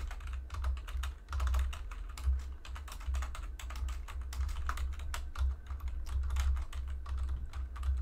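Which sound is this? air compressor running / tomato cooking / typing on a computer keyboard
typing on a computer keyboard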